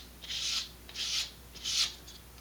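Three steady back-and-forth sanding strokes on a small part of a vintage Estes Sentinel model rocket, a raspy close scrape repeated in an even rhythm with brief pauses, no talking.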